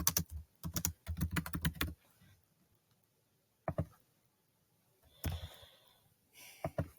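Bursts of clattering keystrokes on a computer keyboard come in quick irregular runs, pausing in near silence between flurries, close and fairly quiet.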